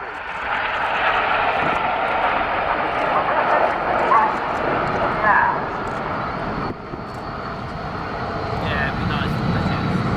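Red Arrows display jets flying past at the RIAT air show, a loud sustained roar of jet engines swelling and fading over about ten seconds, with an outdoor crowd and a commentator talking beneath.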